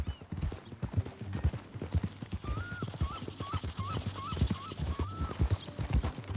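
Horse hooves clip-clop along at a steady walking rhythm in the video game Red Dead Redemption 2, close by, with faint animal and ambient sounds underneath; a few chirpy bird-like calls appear midway.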